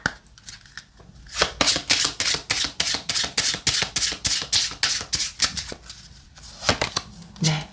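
Oracle cards are riffled and shuffled in a fast, even run of crisp slapping bursts, close and loud, then drawn from the deck, with no talk over them.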